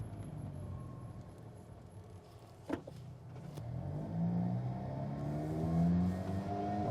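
A 2015 Alfa Romeo 4C Launch Edition cruising on smooth road, heard from inside as a low engine drone with a soft thump partway through and a rising rev near the end.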